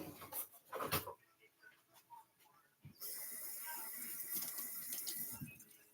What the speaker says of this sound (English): I just wanted to rinse my hands because they were kind of greasy.